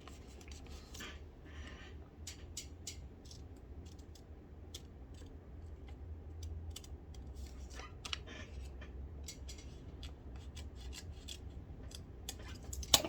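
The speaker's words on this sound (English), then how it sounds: "You can cut them out of square pieces of paper." Scissors cutting rocket fins from square sheets of paper, giving quiet, irregular snips and crisp paper rustles up close over a low background hum.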